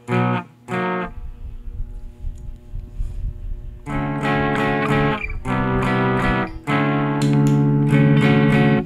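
Distorted electric guitar, a DIY Les Paul-style build on its bridge pickup, with a bright, biting tone, playing a sustained chord, then a pause, then several strummed chords ringing out loudly.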